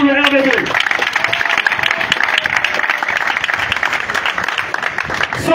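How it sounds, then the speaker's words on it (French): A crowd at a political youth meeting in Gabon applauds for the RDB party, with busy, fairly loud clapping and voices talking and calling over it throughout. "On applaudit encore pour le RDB."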